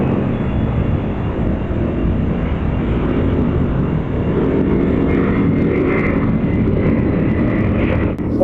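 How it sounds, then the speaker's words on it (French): A landing airplane's jet engines give a steady, loud roar that fills the scene, a broad continuous rumble that holds at the same level throughout with no voices. "On entend un avion atterrir,"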